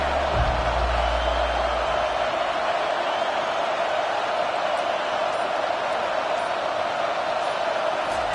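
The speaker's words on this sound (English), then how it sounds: "This crowd bringing the energy and noise early." Steady, dense crowd roar filling a large stadium at an American football game, loud and continuous with no breaks, a low rumble underneath at the start.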